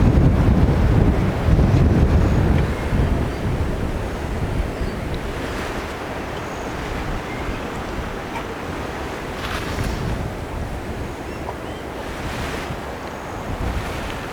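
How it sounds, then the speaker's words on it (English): A strong gust of wind buffets the microphone with a heavy low rumble, loudest at first, then easing into a steady rushing roar like surf. "bit of a gust of wind coming through,"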